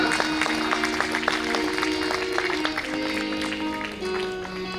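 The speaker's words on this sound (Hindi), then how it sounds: "थोड़ा मन से ताली बजाइए।" An audience at a Bhagwat katha claps steadily, a dense, continuous patter of many hands with no break, sounding close and fairly loud.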